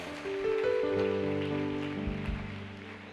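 Audience cheering and applause fill a gymnasium at a Sunday church gathering as a dance group is welcomed, a dense, steady roar of crowd noise blended with sustained musical tones.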